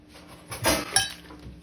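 A spoon mixes salmon spread with cheese and parsley in a bowl, giving a brief close scrape and two clinking knocks against the dish within a quiet moment, no talking.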